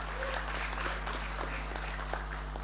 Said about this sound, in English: So we can give her really a round of applause on that.